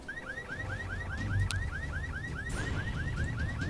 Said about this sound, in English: I gotta kill one more zombie triggering a car alarm.